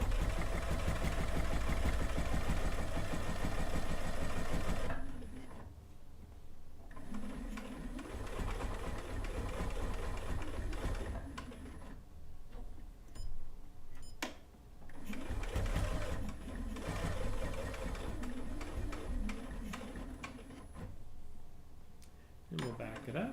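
A sewing machine runs in bursts while stitching down quilt binding, a loud steady whir at the start followed by shorter runs and a back stitch, with a voice talking between the stretches and some small clicks.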